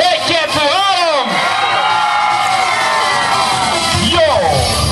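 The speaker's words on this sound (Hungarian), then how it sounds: "aki jól érzi magát, az háromra sikítson egyet!" A concert audience in an outdoor park screams together on cue at a live show, a loud sustained roar of shrieks and whoops with a voice calling over the top.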